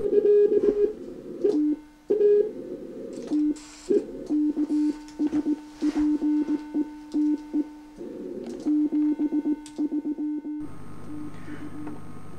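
Morse code tones on amateur radio during the 2003 CQ World Wide contest in Canada: a loud, steady pitched tone keyed on and off in short and long bursts, with a brief noisy stretch at the end.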